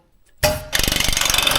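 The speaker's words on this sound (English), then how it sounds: "drill," A power drill starts abruptly while installing an electrical back box, then runs loud and close with a fast, rhythmic pulsing chatter.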